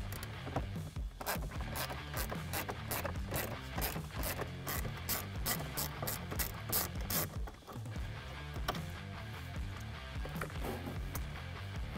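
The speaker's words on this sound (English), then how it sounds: "you can just use a little ratchet with a 7mm socket on there to get down into it" A small ratchet with a 7mm socket turning speaker screws, a loud, rapid, continuous clicking of the pawl close up, with fast repeated strokes and no talking.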